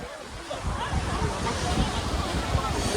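Sea waves wash steadily on the beach at Bakkhali, a continuous broad rush of surf mixed with heavy wind buffeting the microphone.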